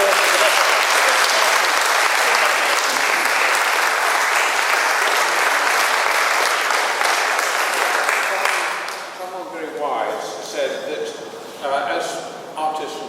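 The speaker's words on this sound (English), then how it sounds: "Big round of applause." A large crowd applauds steadily for several seconds, then the clapping thins out into scattered claps and a few voices before fading.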